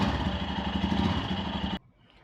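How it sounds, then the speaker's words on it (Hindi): Exhaust of a Royal Enfield Scram 411 motorcycle idling, a steady close, low throbbing rumble that cuts off abruptly near the end into near silence. "तो यहाँ पे आप देख सकते हैं कि जो एग्जॉस्ट की साउंड है बहुत ही ज़्यादा जो है वो स्वीट साउंड मिल जाती"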